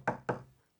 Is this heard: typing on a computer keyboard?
no